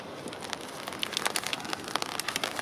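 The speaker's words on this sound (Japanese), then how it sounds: "こんな雨が降るのに撮ります。" Rain falls outdoors at Komaki air base, a continuous soft hiss broken by frequent sharp patters and drips landing nearby.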